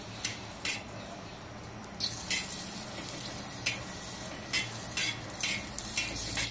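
Chillies and spice-paste ingredients dry-roasting on a griddle: a continuous faint crackling hiss with recurring short scraping and tapping bursts from stirring, close by and quiet, without speech.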